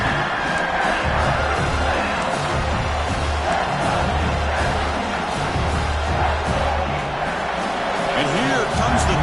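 A packed football stadium roars on a third-down red zone stand, ASU versus South Carolina, a loud, sustained wall of crowd cheering and noise swelling throughout, with a commentator talking over it.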